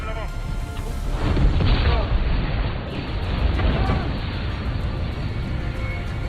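Heavy booming blasts and rumbling explosions from RPG rocket fire roll through, one after another, in a movie battle scene with thick black smoke, dense and loud throughout.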